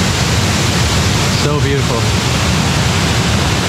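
El Chiflon waterfall in Chiapas, Mexico, roars as a loud, steady, close rush of falling water, with a voice briefly speaking over the constant torrent.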